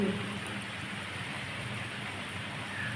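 Heavy rain falling steadily, a dense even hiss with no breaks, moderately faint and continuous throughout.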